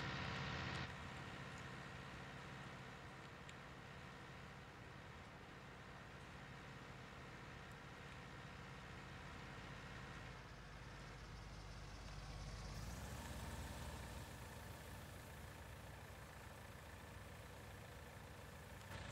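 A Farming Simulator 19 tractor idling with a continuous low engine rumble and a slight swell and tonal shift partway through, heard alone without speech.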